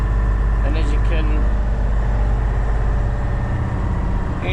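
A Mercedes-Benz 1222AF overland truck climbs a steep hill, its engine droning loud, low and steady from inside the cab while someone talks over it.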